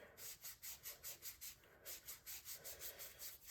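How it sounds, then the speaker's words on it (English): An old Scotch-Brite pad spins against a rusty brake caliper from a Porsche 944, making a faint, close, rhythmic scrubbing whoosh that pulses about three times per second. "So we're just going to take a old Scotch-Brite, give this guy a spin"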